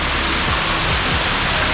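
Kethenhalli Falls near Bangalore, a waterfall where water pours over rocks, heard as a loud, steady, dense rushing roar close by.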